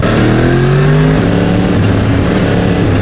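A Yamaha MT-10 SP motorcycle engine pulls loud and close, its tone sweeping up and down as the throttle is rolled on and off, with a steady mechanical roar throughout.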